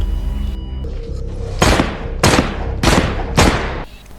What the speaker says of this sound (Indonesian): Wanita itu langsung menembak lehernya dan menghujaninya dengan tembakan setelahnya.